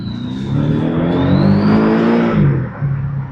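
A Porsche 718 Boxster GTS on cold tires pulls hard, its engine climbing steadily in pitch, dipping briefly at a shift around the two-and-a-half-second mark, then droning on loud and close with no voices.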